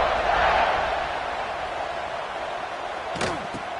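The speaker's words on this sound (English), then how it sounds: "this crowd is buzzing after that last score" A large stadium crowd at a college football game buzzes steadily and distantly during a kickoff, a continuous murmur of many voices with a brief sharper thump near the end.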